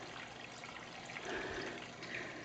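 Water falls from a Marineland Bio-wheel power filter into a turtle tank in a soft, steady splash and trickle, faint and continuous with a slight swell in the middle.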